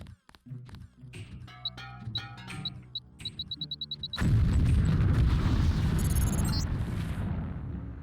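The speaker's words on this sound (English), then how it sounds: "If you aren't close enough, the lamp will fall to the ground and detonate." An explosive lamp detonating in Deus Ex, a sudden loud, close blast that follows a few seconds of clicks and quick electronic beeps, then a long roaring rumble that slowly fades.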